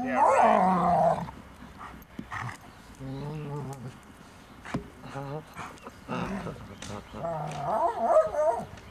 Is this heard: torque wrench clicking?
no